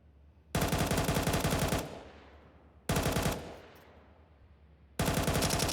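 Bursts of automatic gunfire in a Counter-Strike match on the Nuke map, three loud sustained volleys with short decaying echoes between them, no talk.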